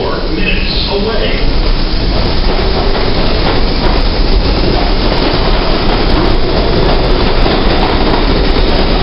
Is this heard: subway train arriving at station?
yes